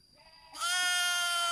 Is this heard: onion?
no